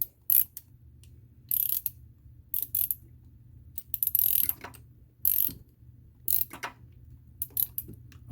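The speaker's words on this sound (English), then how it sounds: "I'm trying to guide the ratchet because it does kind of sway, the bolts that is" A ratchet backing out cylinder head bolts on the right head of a 4.6 SOHC 1999–2004 Mustang GT engine, with several separate bursts of close, crisp clicking broken by short pauses.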